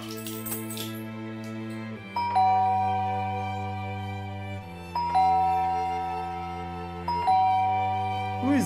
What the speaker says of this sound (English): Who is that buzzing the bell at this time?